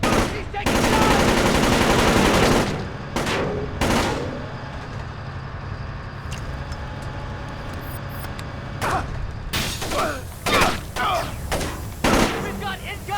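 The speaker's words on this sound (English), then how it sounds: "We've got incoming shots!" Gunfire in the stealth video game Splinter Cell Chaos Theory: a loud sustained burst of automatic fire, then a quieter stretch with scattered thumps, followed by further sharp shots and impacts, with game voices shouting at times.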